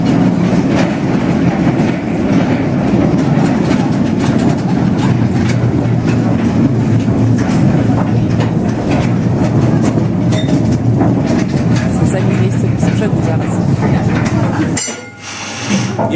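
A small mine train rattles through the Bochnia salt mine tunnels, with a loud, continuous clatter of wheels and clinking couplings close by and faint voices underneath, easing off briefly near the end.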